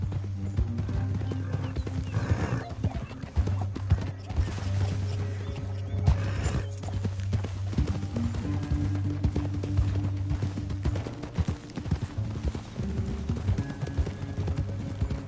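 Steady horse hooves clip-clopping at a walking pace in Red Dead Redemption 2, with a horse whinnying now and then over a low, continuous rumble of background music.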